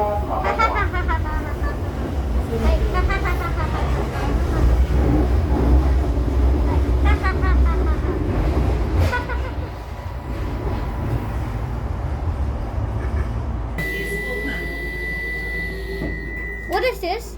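A Class 321 electric train runs between Canary Wharf and Stratford, a continuous loud rumble and rail roar from onboard with rising and falling motor tones, while people talk over it throughout.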